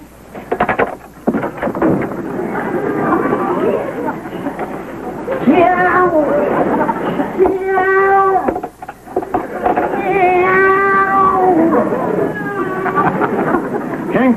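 A voice imitates a cat, giving several drawn-out, rising and falling meows, close and fairly loud, alongside ordinary talk in a 1950s television comedy scene.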